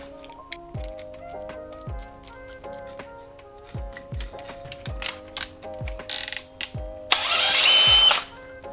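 Drill boring into a new carbon fiber hood on a Kia Stinger, a series of short whirring bursts with sharp mechanical clicks and ratcheting between them, ending in a louder sustained grinding burst near the end.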